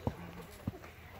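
Horses walking on a jungle trail in Puerto Vallarta, Mexico, two sharp hoof clops about half a second apart, close, with faint background sounds.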